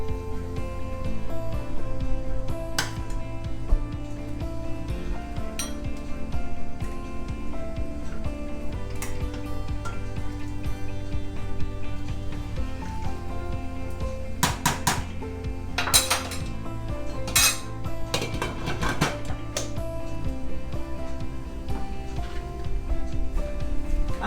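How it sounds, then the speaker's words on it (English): Albondigas soup being served, with a ladle and utensils clinking and scraping against pots and bowls in a steady, close run of metallic taps and chinks. "I'm just serving myself a little bit, just to show you."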